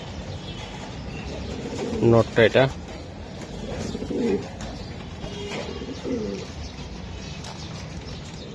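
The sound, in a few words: racing pigeons cooing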